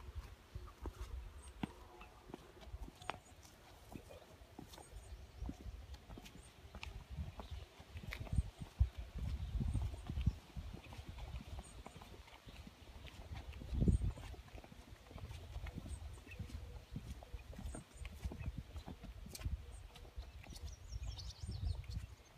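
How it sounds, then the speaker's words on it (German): Horses move about near the stables of a herb garden, soft scattered hoof clops and shuffles, faint and uneven, with occasional small knocks and distant bird chirps. "Hier hinten gibt es Stallungen für Pferde. Es sind hier wunderschöne Pferde"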